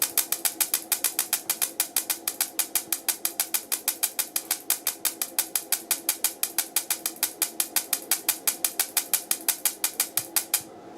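A switch is pressed over and over as fast as possible to mimic ignition points opening and closing, giving a steady, rapid train of sharp clicks that runs the whole time, close and fairly loud, with no talking.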